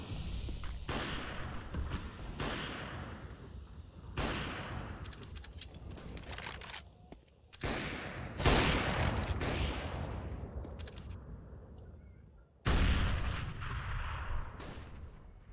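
Grenade blasts and rapid gunfire from a Counter-Strike: Global Offensive match, several loud bursts and explosions in succession with sharp onsets and decaying rumbles, nearly continuous across the stretch.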